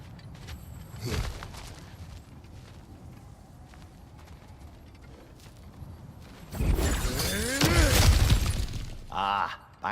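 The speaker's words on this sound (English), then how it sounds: "Ah, back to smashing through things for fun and profit." Breakable objects being smashed in God of War Ragnarok: a sharp crash early on, then a louder burst of shattering and clattering debris later, with game voices and effects around it.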